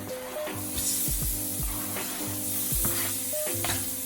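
Vegetables sizzle and crackle steadily in a hot pan, a constant frying hiss with occasional clinks and stirring noises.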